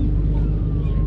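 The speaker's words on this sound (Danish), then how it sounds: "Vi er på et færge, og vi styrer virkelig kameraet og alt det her." A ferry's engine hums as a loud, steady low rumble with wind buffeting the microphone, constant throughout the short stretch.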